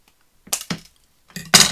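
A handheld corner cutter punches through a card corner, producing two short crisp snaps close up, a quick click followed by a sharper, louder crunch after a brief pause.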